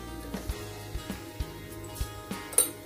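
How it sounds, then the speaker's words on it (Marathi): Mustard seeds spluttering in hot oil for a bitter gourd (karela) sabji, giving faint, scattered sharp pops and crackles at irregular intervals over a low steady background. "मोहरी आता आपली तडतडतीये"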